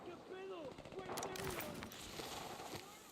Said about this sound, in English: I'm just surprised there's so much gunfire.